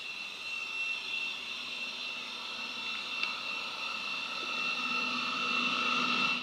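A Eureka J15 Pro Ultra robot vacuum runs indoors with a steady, moderate whirring hum and a high-pitched motor whine that holds constant and grows slightly louder.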